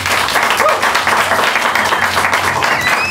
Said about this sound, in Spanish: quiero pedir otro fuerte aplauso para Jorge Giorgia